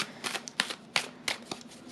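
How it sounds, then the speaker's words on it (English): Tarot cards are shuffled close up in a run of crisp riffles and soft slaps, with several sharp flutters in an uneven rhythm. "So I'm just gonna shuffle the cards first"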